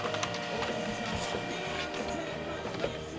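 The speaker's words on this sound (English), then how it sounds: "Who else has a printer that needs to be force fed?" A printer's paper-feed mechanism as paper is forced through it, giving a continuous grinding whir with rapid ratcheting clicks from the gears, close and steady throughout.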